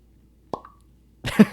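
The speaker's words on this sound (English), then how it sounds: "Cork pop, batch 15." A single hollow cork pop bursts from a bottle of Stagg Jr. bourbon whiskey, batch 15, loud and close with a short ringing tail, then people start talking.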